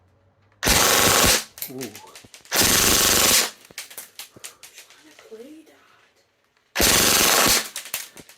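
A KWA Scarlet airsoft gun fires full auto at about 23 to 24 rounds per second in three loud, dense, rapid bursts, separated by pauses with brief exclamations and quieter handling noises.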